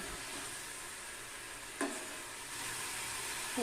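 Spice masala and salt fry in a pan for a crab curry, giving a soft, continuous sizzle with one brief scrape of stirring midway.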